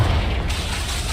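A Confringo blasting spell explodes in Hogwarts Legacy, a loud, close, deep boom with rumbling low-end that fills the whole moment.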